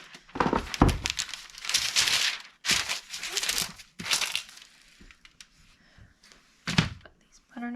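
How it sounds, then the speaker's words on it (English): Parchment paper crinkles and crumples as it is laid over a baking sheet, with sharp rustling bursts and a few dull thunks as the sheet shifts, while a person talks in between. "I'm going to line this baking sheet with parchment paper."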